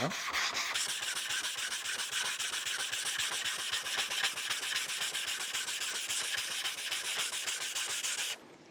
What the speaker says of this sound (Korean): 사포를 어렵지 않게 몇, 몇 번만 왔다 갔다 해도 이 면이 깔끔해집니다.